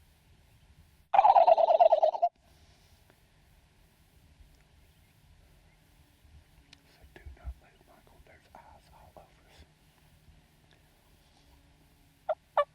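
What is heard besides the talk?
wild turkeys gobbling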